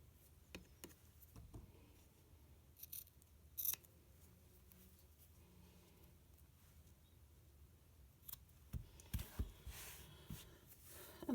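Scissors snip away excess fabric around sewing piping, a few faint, scattered cuts in a quiet room with light handling noise between them.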